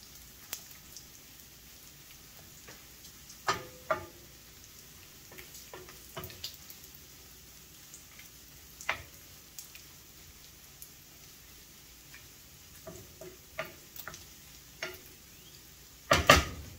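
Bacon fries in a pan with a faint, steady sizzle as the fat renders, broken by scattered pops and crackles and a louder burst of spitting at the very end.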